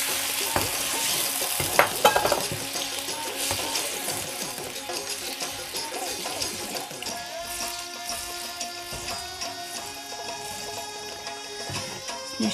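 Okra curry with coconut milk sizzles and simmers in a pan, a steady bubbling crackle with occasional stirring scrapes near the start.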